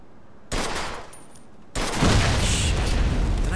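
Gunshots at a gas tank in the video game Mafia II, two abrupt loud bursts of gunfire, the second heavier and sustained like a blast rolling on for over a second.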